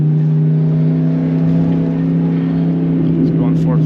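A 2006 Dodge Ram SRT10 Viper truck accelerating, its engine holding a loud, steady, deep drone from inside the cab that rises slightly in pitch toward the end.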